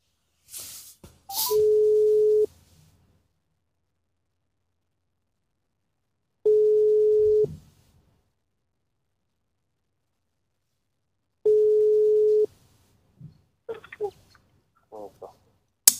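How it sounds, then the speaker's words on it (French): A telephone call is being placed. After a few button taps, three long, loud ringback tones sound at even intervals with silence between them, followed by faint clicks as the line picks up. "Donc on compose son numéro et c'est parti."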